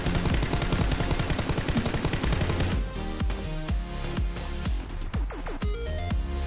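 M416 assault rifle in PUBG spraying full-auto, a dense rapid stream of gunshots that then breaks into slower, separated shots with ringing tails, loud and close with no talk.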